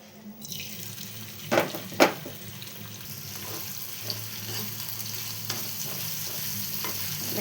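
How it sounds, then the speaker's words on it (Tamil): Dried anchovies frying in a little oil in a pan, a steady hiss of sizzling with a couple of sharp clatters from stirring early on, then a continuous even fry sound close by, no talking. "இதை நான் ஒரு பேனில் கொஞ்சமாக ஆயில் விட்டு இதை நம்ம எல்லாத்தையுமே ஒன்றா சேர்த்து ஃப்ரை பண்ணிக்கலாம்."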